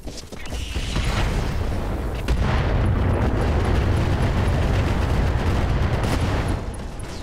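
Incendiary weapons firing in the Roguetech mod for BattleTech, a dense sustained rumble of blasts and crackling bursts that stays loud and close for several seconds.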